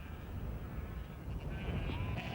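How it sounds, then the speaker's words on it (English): Sheep on their way to shearing in the Falkland Islands bleat amid a dense, continuous background rumble, with calls blending into the noise of a moving flock. "Sheep on their way to shearing."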